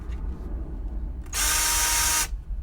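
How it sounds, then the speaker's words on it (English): A cordless hand drill spins up in a short burst of a bit under a second, a loud, close, high whirring motor whine that stops abruptly, with quiet room noise before and after. "hand drill, what do you call it? Cordless drill."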